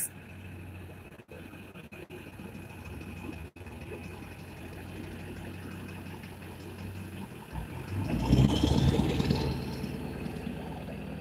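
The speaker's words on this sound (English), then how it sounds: "That car literally sounds like a fucking truck." A car in the city whose engine sounds like a truck: a low, faint rumble in the background that swells into a louder, nearby roar toward the end, then stays steady.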